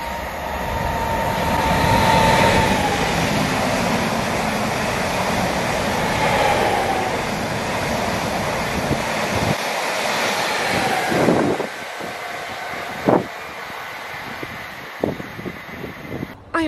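A train rumbles steadily through Needham Market station, broadband and loud, then fades out, leaving a few sharp clanks and knocks of rolling stock nearby.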